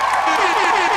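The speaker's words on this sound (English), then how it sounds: "I appreciate the applause." A live podcast audience applauds a newly introduced guest, a steady wash of clapping that runs under a speaking voice for the whole moment.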